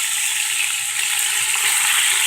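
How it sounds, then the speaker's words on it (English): Meat browns in a hot pan for chile verde, a loud, steady, close sizzle and crackle of frying that runs without a break and with no talking. "Now all we're doing is really just browning the meat."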